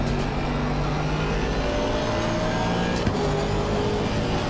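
Race car engine in Assetto Corsa Competizione holds a steady, loud drone with rising harmonic tones as it accelerates on track with warm tires, continuous and close with no talk.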